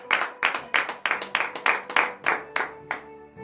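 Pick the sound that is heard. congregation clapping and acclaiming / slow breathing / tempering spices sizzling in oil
congregation clapping and acclaiming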